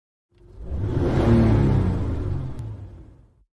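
A loud Lamborghini sports car roars past in an animated scene, rising from silence into a powerful engine rush that peaks mid-pass and fades away over a few seconds.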